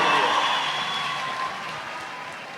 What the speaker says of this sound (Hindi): बहुत सारी तालियां कोयटा वालों के लिए